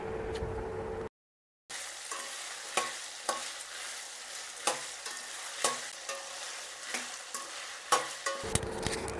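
Star gooseberries sautéing in a pan for pickle, a steady sizzle punctuated by regular scraping stirs of a spatula, about one stroke a second after a brief silent gap.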